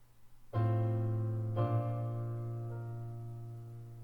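A sustained piano-like chord with a 9-8 suspension rings out, then a second chord enters about a second later as the suspended ninth resolves to the octave, both decaying slowly.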